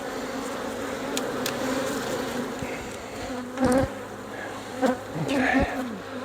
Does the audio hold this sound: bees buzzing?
yes